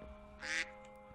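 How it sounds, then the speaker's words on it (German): A single short duck quack from the video game Jurassic World Revelation, a brief nasal call over a faint steady background hum. "Eine Ente, ich habe eine Ente gehört"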